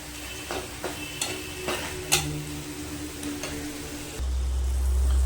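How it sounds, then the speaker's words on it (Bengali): A spice mixture with salt stirred and fried in a pan for an egg dish, with a steady close sizzle and scattered scraping stir strokes, the frying growing louder near the end. "ভালো করে নাড়াচাড়া করে কষতে দেবো।"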